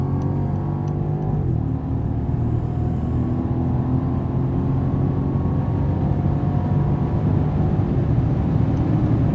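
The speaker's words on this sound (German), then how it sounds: "So, jetzt mal in Sport von 100 voll aufs Gas." A 2017 Mercedes-Benz S 500 Cabriolet (A217) in sport mode takes full throttle from 100 km/h, its engine holding a steady, loud rumbling drone from inside the cabin with road noise throughout.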